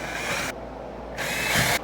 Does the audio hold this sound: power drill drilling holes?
yes